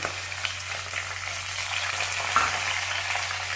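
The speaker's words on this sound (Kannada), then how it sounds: "ಬೀನ್ಸ್ ಹಾಕ್ಕೊತಾ ಇದ್ದೀನಿ, ಕ್ಯಾರೆಟ್ ಹಾಕ್ಕೊತಾ ಇದ್ದೀನಿ, ಆಮೇಲೆ ಅವರೆಕಾಳು ಹಾಕ್ಕೊತಾ ಇದ್ದೀನಿ ಇದರೊಳಗೆ" Green beans, carrots and field beans frying in a pan for Karnataka-style upma, giving a steady close sizzle with light stirring scrapes and no voices.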